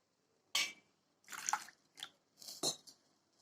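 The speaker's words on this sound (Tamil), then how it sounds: "இப்போ 1 கப் வெல்லம் எடுத்திருக்கேன். அதை ஒரு பாத்திரத்தில் போட்டுக்கலாம்." Several separate clunks and scrapes as chunks of jaggery drop into a metal pot, close by, with short pauses between them.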